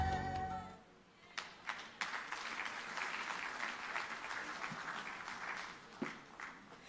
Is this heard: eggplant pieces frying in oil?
no